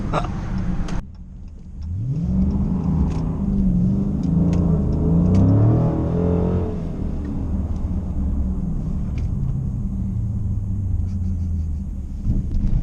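A 2016 Dodge Challenger Scat Pack slides through a turn, its engine rising in a rev and then settling into a steady low rumble heard from inside the car, with no talk.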